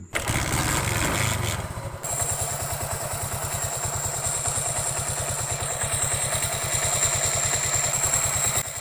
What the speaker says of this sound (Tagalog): paparinig ko muna sa inyo ang actual na tunog na palatandaan na worn out ng ating timing chain